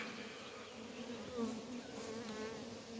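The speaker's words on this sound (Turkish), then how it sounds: "Maşallah şurada güzel arı görüküyor." Honeybees buzz steadily at an open beehive during a colony inspection, a dense continuous drone close by with no talk over it.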